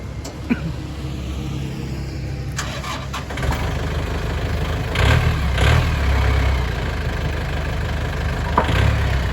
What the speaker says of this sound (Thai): เครื่องนิ่มติดง่ายๆครับผม